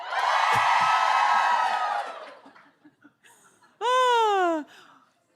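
A small live podcast audience cheers and laughs together for about two seconds, bright and fairly close. The noise fades into scattered murmurs, and then a single rising whoop rings out alone.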